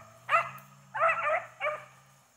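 Beagle puppies running rabbits bark in three distinct bursts, the middle one longer, moderately close in the field with no talking.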